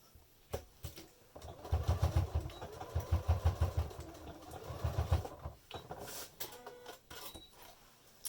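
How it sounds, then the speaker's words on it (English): A sewing machine stitches through a top layer of fabric backed with interfacing for a make-up bag, a close rhythmic mechanical chatter in several short runs with brief handling noises between them. "just sewing purely on that one top layer of fabric with the interfacing behind"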